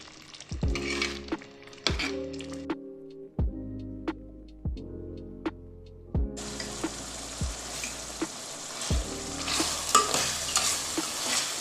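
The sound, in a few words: beef keema frying and being stirred in oil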